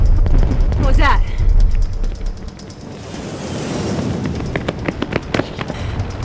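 Cluster bombs go off in a film battle scene, with a dense burst of crackling, popping blasts early on, then scattered sharp pops over a low rumble that keeps going throughout.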